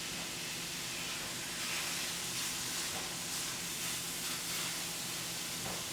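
Beef searing in a hot pan for a noodle stir fry gives a steady, dense hiss and sizzle that holds at an even level throughout, with no voices over it.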